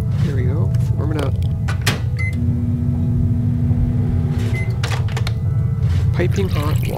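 An appliance heats water in the survival game Abyss: Wraiths of Eden, giving a steady low hum with a faint tone that holds for a couple of seconds, under game sounds and brief clicks.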